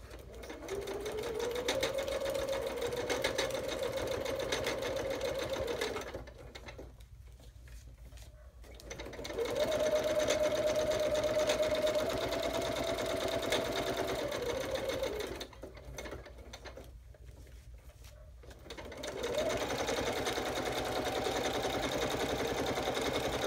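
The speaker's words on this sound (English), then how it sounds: "Let me sew it real quick." A sewing machine stitching a handmade journal runs in three steady, close bursts of whirring motor hum, separated by short pauses of quiet room tone.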